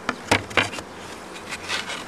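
Honeybee buzzing close by in an apiary during summer hive work, the insect just caught by hand; a short, intermittent whine rises and fades in several bursts over about two seconds with no talking.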